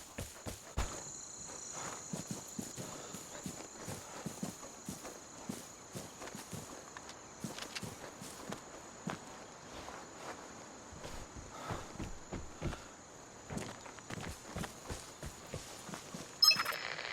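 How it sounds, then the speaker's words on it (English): Enemy footsteps in the video game Vigor, a run of soft, quick steps with a steady rhythm over faint ambient hiss, moderately close and fairly quiet, with a slightly louder knock near the end. "If you didn't hear the initial footstep of that guy, or this guy rather, that's fine."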